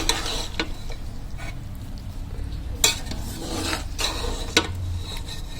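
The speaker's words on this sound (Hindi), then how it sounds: "तो चावलों को दम लग चुका है, मिक्स कर लेते हैं।" Cooked beef biryani rice is stirred in a pot with a spoon, giving a steady scraping and rustling run punctuated by a few sharper knocks against the pot's side, close by with no talking.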